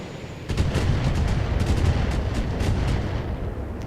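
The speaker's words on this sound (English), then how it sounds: "That's a lot of explosions on the striker" Rapid bursts of explosions pound a toughened striker vehicle during a Battletech convoy battle, a dense, continuous barrage of booming impacts and crackling blasts rolling on for several seconds after a brief quiet start.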